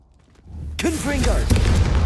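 A Confringo explosive spell blast in Hogwarts Legacy erupts after a quiet lead-in, a sudden loud booming impact with rumbling tail and crackling bursts, with swooping tonal magic sounds layered over it.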